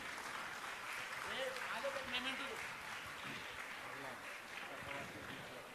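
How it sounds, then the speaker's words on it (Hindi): Sustained audience applause at a Jain religious gathering, a steady wash of clapping lasting throughout while a voice talks over it. "आप लोग तालियों में कंजूसी न करें।"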